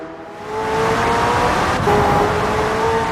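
A McLaren Senna engine in Forza Horizon 4 rises from a low idle into a loud, steady high-revving drone with a whining tone, holding close and strong throughout with a slight gear shift midway.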